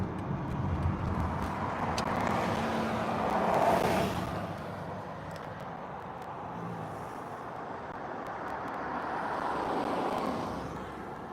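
Cars driving along the Sunset Strip in Los Angeles near the Whisky a Go Go, a steady mid-level roadway rumble with a slightly louder swell as a vehicle passes close, and no voices.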